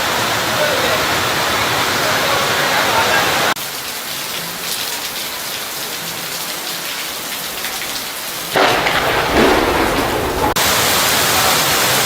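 Heavy downpour with thunder just after a Varuna Yagam rain ritual at Simhachalam temple, a dense, loud roar of rain that dips for a few seconds and then surges back, with voices faintly mixed in.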